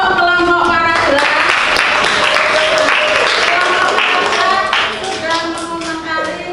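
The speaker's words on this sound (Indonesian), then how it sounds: "Aplaus untuk kelompok paragraf." Classroom applause for a student group, many hands clapping loudly and continuously from close by before tapering off, with a few children's voices mixed in.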